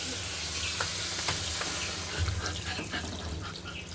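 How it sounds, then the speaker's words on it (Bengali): Water poured into sizzling spiced mustard pomfret curry masala, a loud steady hiss and bubbling with splashy spatter, close up and without speech. "এবার আমি পরিমাণ মতো জল দিয়ে দেব"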